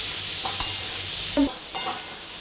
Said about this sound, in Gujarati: તેલમાં વ્યવસ્થિત મિક્સ કરી લેવાના